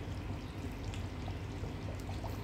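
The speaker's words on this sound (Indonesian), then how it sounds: "Di proses api sedang itu santannya kan masih menggelembung-gelembung banget ya" Coconut milk bubbling over medium heat in a pot of rendang, a steady close simmer of dense popping and gurgling with no voices.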